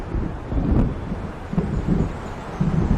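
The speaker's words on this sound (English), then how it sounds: "It seems there's a storm coming." A storm builds in the video game Alan Wake, with low thunder rumbling and rolling through steady wind, swelling in a few soft surges without any voices.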